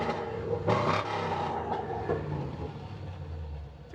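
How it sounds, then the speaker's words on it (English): A small-block pickup truck engine rumbles through an aftermarket exhaust and stock little tailpipe, a loud, steady low drone with a couple of brief revs rising above it. "That's a lot of noise coming from that stock little tailpipe, man."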